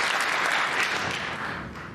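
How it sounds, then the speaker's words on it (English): Snooker crowd in an arena applauding steadily as Zhang Anda builds toward a 147 maximum at the UK Championship, a dense sustained clapping that holds loud for the whole stretch, with no voices on top. "Crowd beginning to respond here."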